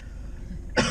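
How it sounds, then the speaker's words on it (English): A single sharp cough bursts out near the end after quiet room tone, close and loud. "I may or may not intermittently cough uncontrollably"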